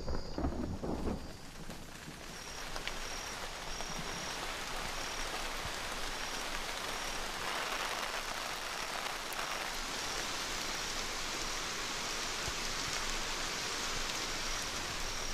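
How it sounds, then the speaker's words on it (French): Steady rain pours down over a tropical forest, a dense, even hiss of drops on leaves that stays constant throughout, with a louder burst at the start and no voices. "on réalise que c'est la pluie qui arrive"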